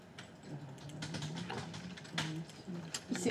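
Quick, irregular clatter of keys on a computer keyboard, fairly quiet and close, with a voice murmuring faintly underneath.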